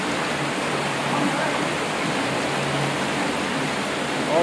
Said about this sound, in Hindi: जहाँ से पानी आ रहा है जमीन के अंदर से।